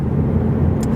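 Shelby GT350 engine held at high revs around 7,900 RPM, a loud, dense, steady roar heard up close from inside the car for about a second.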